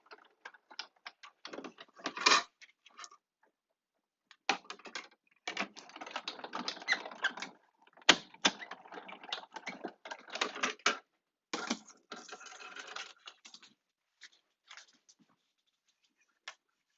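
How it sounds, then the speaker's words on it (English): Scissors snip out a paper piece for a scrapbook page in quick, crisp bursts of close cutting with short pauses, the papery clipping coming in uneven runs and no talking. "I have another piece here, so I'm just going to quickly cut this out."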